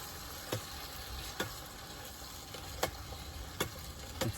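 Food cooking in a pot gives off a steady low sizzle and bubbling, with a few soft stirring knocks against the pot spaced out over several seconds.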